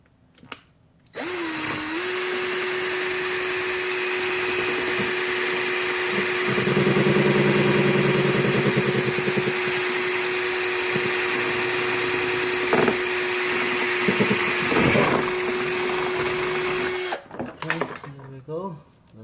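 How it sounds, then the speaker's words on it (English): A power drill bores holes into the removed front bumper of a 1998–2002 Honda Accord, running as one long, loud, close whine for about sixteen seconds, with brief rattles and clicks after it stops. "time to drill some holes"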